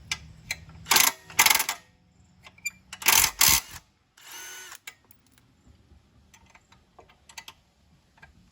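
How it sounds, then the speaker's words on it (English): A DeWalt 12-volt impact driver works loose a tight bolt on a Scag edger, firing in two pairs of loud hammering bursts with clicks and handling noises between and after them. "I'm gonna get my impact, it's easier. Best tool ever. A little DeWalt 12-volt impact set."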